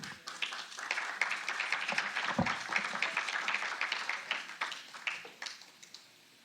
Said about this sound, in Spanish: permítanme recibir con fuertes palmas a Sandra Guerra